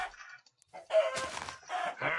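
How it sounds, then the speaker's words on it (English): Minecraft chickens cluck and squawk in short bursts, close and fairly loud, with a brief quiet gap early on. "Hello, chickens."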